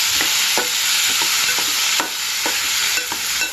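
Cucumber and potato pieces stirred in a hot pan for a Telugu cucumber, drumstick and tomato curry: steady close sizzle with a spoon scraping through in regular strokes about every half second, no voices.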